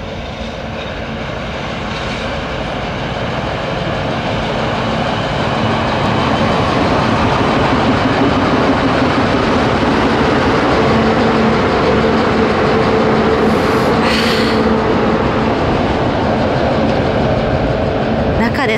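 An EF63 electric locomotive on the Usui line gives a continuous heavy rumbling drone that builds and stays loud, with a brief sharper screech partway through.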